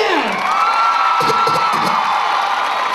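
A crowd at a freestyle hip hop and dance event in San Fernando cheers and shouts for a young dancer, with loud sustained whoops and high voices over a continuous roar and a few short bursts of clapping.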